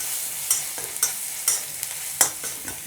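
Crushed ginger, garlic and spices frying gently in a pan, a faint hiss broken by regular scraping strokes of a spoon, about every half second, with no talking.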